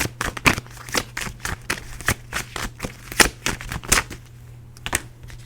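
A Rebel deck Couples Edition of cards being shuffled by hand, a fast run of crisp close riffling snaps and taps with brief pauses.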